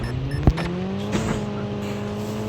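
A vehicle drives in the mobile shooter game Call of Duty Mobile, its engine a continuous drone with a brief sharp knock, steady and close with no talk.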